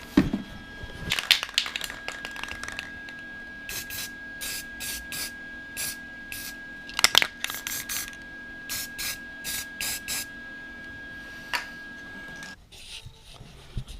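Aerosol spray paint applied to a repaired dirt bike frame: a series of short, sharp hissing bursts, some in quick succession, over a faint steady background tone, close by and without talk.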